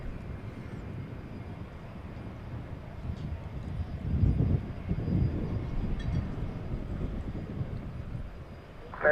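A UPS Boeing 767 freighter taxiing at Dallas/Fort Worth Airport at night, a steady low engine rumble with broadband wind-like noise that swells slightly midway, heard from a distance with no talk.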